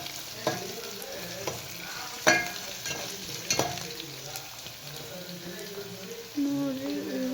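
Potatoes frying in a pan for a fenugreek leaf stir-fry, a steady close sizzle broken by a few sharp scrapes and taps of a spatula against the pan, with no voices.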